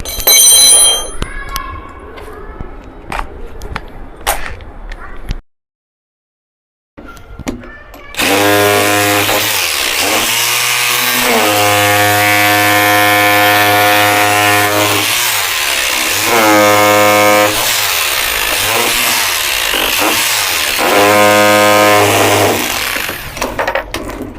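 A rotary hammer drill fitted with a pointed bit chisels into stone, loud and close, in repeated hammering bursts after a short pause, with brief talk before it starts.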